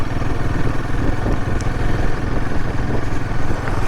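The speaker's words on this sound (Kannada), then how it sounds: "first ride with Himalayan 450" A Royal Enfield Himalayan 450 motorcycle on its first ride, engine droning steadily and loud throughout with a low mechanical rumble and light clatter, no voices.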